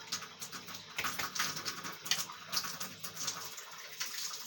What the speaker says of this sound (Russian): Пошел мыть руки. Включил воду.